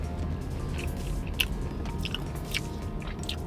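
Cheese fries from a drive-in are chewed close to the mic, giving soft, wet, repeated mastication sounds with a few sharper bites over a low background hum, and no talk.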